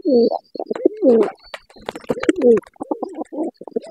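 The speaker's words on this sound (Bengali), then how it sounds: "অনেক ধরনের পাখি ওনার কাছে হাতের মুঠে চলে আসে এবং খাবার খেয়ে যায়।" Pigeons or doves cooing and birds chirping close by, a run of soft repeated coos with scattered short calls, as many birds come to feed from a person's hand.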